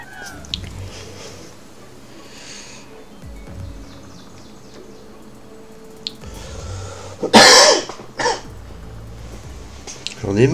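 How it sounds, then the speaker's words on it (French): A person coughs, with a throat-clearing hack and a loud burst of coughing near the middle, over quiet game background sounds and some talk. "J'en ai marre de cette toux."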